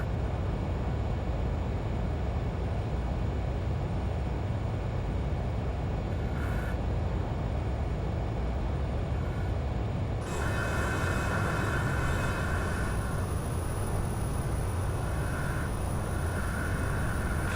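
Engine roar fills the cockpit of a Learjet 35A in Microsoft Flight Simulator, a loud steady broadband rumble and hiss that never lets up, with faint tonal whines joining partway through and no talk.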